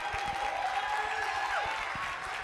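Applause from a church congregation at a Black History program, a steady patter of clapping, moderately distant, with a faint voice underneath.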